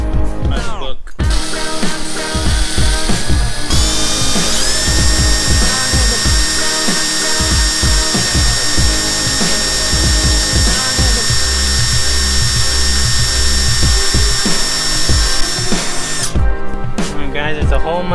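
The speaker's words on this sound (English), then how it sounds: "This is my first time drilling anything, so I want to be really careful, especially because it's my car." A power drill bores a hole through the body of a Mitsubishi Evo X car for a spoiler install, its high whining motor running continuously and loudly close by, with brief pauses and pitch shifts as the bit bites.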